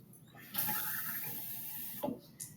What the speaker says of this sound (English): And I'm going to pour it up to the 50 ml line.